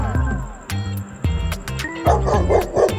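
A dog gives several short yappy barks and whimpers over light background music, with a few brief sharp yips near the end.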